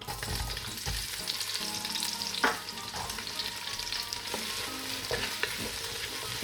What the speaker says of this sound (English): So I'm just going to go in and fry off some of my onions and spring onions first of all.